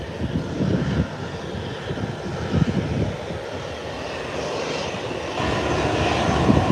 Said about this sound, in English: here comes American Airlines making its way to the parking area